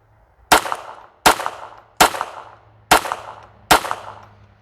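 Five sharp .22LR handgun shots with CCI Standard rounds, fired at a brisk, even pace about three-quarters of a second apart, each a loud crack with a short decaying tail over a faint low hum.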